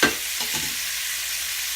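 Osso buco searing in a new pan, a steady hissing sizzle after a brief clatter at the start, close and continuous with no talk.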